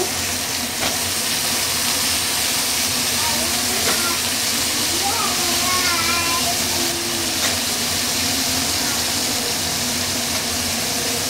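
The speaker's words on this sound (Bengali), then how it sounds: "আলুগুলো তুলে নিয়ে একটু আলুগুলো ভেজে নেব" Potatoes frying in hot oil with asafoetida, a steady broad sizzle and hiss running throughout, with occasional stirring scrapes and faint background sounds.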